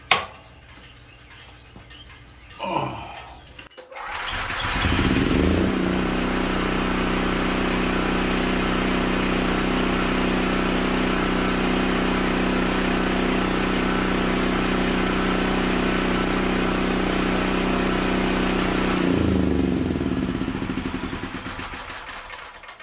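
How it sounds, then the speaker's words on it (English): A 6 kW backup generator for a church starts after a brief rattle and runs at a steady loud drone for about fifteen seconds before winding down. "now our backup generator for the church is working"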